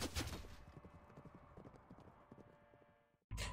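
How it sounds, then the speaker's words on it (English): Rapid horse hooves thud and clop on the ground in a video game, in an irregular gallop-like rhythm, fading slightly before a brief loud burst at the end. "hear the noise of hooves stomping the ground"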